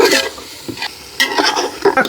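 Meat dropped into sizzling spiced masala for khichuri, loud close frying bursts and scraping stirs that come in short surges.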